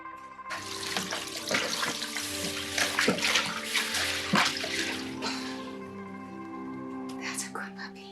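Steady broadband rush of running water filling a tub, continuous throughout with occasional splashes and faint voices in the background.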